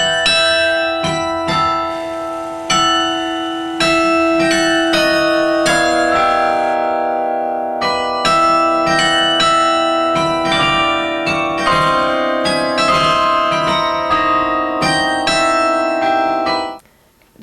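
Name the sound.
carillon bells ringing in the BYU bell tower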